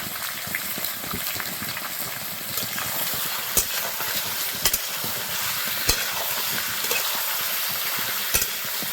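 Pieces of vetki fish frying in hot oil, a loud, dense, continuous sizzle close up, dotted with sharp crackles and spatters at irregular intervals.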